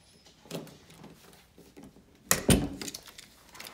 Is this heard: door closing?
yes